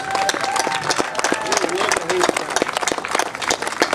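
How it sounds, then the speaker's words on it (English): A rally crowd gives a round of applause at the close of a tax day tea party rally in Santa Fe, New Mexico, with scattered claps and cheers under people talking. "give yourselves a round of applause"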